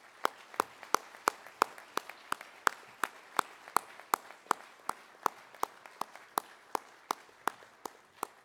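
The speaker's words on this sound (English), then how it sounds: "Let's give them all a big hand of applause as they come up." Clapping at the Shingo Institute awards gala in Atlanta: sharp, sparse claps fall in a steady, even rhythm about three times a second, sounding like only a few hands rather than a full crowd.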